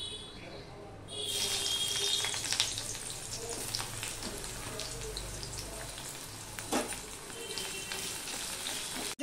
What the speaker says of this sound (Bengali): পেঁয়াজটা লাল লাল হয়ে ভাজা করে নিয়েছি